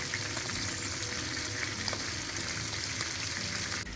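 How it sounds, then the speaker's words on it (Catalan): White prawns fry in a pan, a steady dense sizzle and crackle running unbroken and fairly close, with no voices. "Fregim les gambes de blanc."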